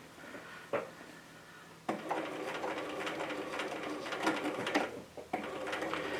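A home sewing machine stitches a zipper pouch in a steady close-up whir that runs in two bursts, with soft clicks and a brief mechanical thump between them.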